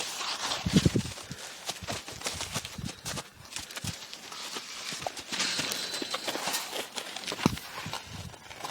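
Horse hooves clop steadily on the ground at a walking pace, close by, during groundwork before a first ride, amid a busy outdoor background.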